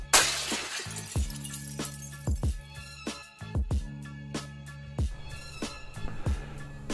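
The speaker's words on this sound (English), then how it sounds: "Break the glass." Glass shattering and breaking, a sharp crash followed by a run of tinkling shards and repeated smashing hits over several seconds, loud and close with no talk.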